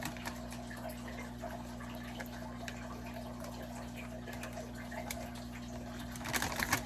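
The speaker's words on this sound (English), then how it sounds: "So I need to wash these grapes first." Water runs steadily from a kitchen tap as grapes are rinsed, a constant close hiss with a few louder splashes and clatters near the end.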